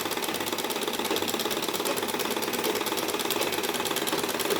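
A sewing machine runs a straight stitch on the hem cuff of a salwar, giving a loud, even, rapid mechanical chatter that continues unbroken with no voices.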